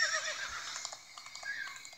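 A horse whinnies in a Pirates of the Caribbean video game, a high, wavering neigh near the start that fades into quieter snorts and faint hoof-like clatter over two seconds.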